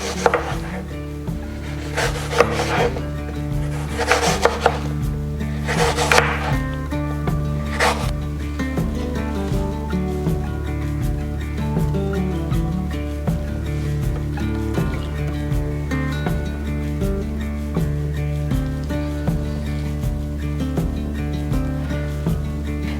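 Knife slicing apples very thin for an apple upside-down cake, a few sharp cutting bursts early on, then steady soft chopping and rubbing over a low background hum.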